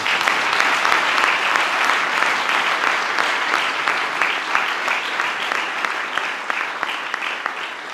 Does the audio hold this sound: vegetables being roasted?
no